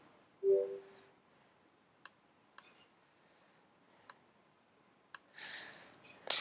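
Mouse clicks on a computer while opening an IntelliJ IDEA project for Java coding, heard as about five sharp, isolated clicks spaced a second or so apart, fairly close, with a brief burst of other handling noise near the end.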